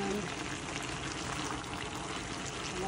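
Pinakbet vegetable stew with string beans cooks in a pan, giving a steady, dense bubbling and frying hiss that fills the short stretch, close and continuous.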